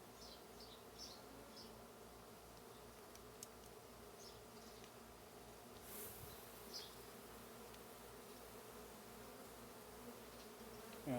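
Honeybees buzz faintly but steadily around an open hive as frames are inspected, a soft continuous drone with no speech.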